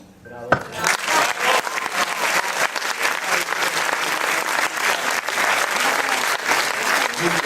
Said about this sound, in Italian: Viene al centro a prenderti gli applausi qua